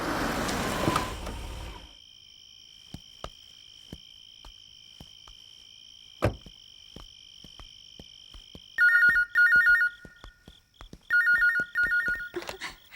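A telephone rings indoors in a Hindi-dubbed action film scene, with bursts of trilling electronic ring in two repeated pairs, preceded by a faint steady tone and scattered clicks, fairly quiet overall.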